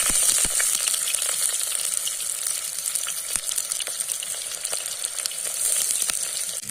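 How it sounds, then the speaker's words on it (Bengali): Onions fry in hot oil in a pan, making a steady, close sizzle with frequent small crackles and pops and no talk. "পেঁয়াজ দিচ্ছি,"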